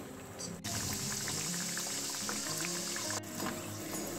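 Shankarpali, sweet flour dough pieces, frying in hot oil, a steady dense sizzle and crackle that holds throughout with two brief drops in level, no talking.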